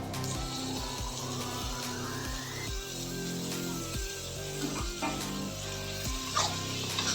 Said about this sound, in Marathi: त्याला छान परतून घेऊया.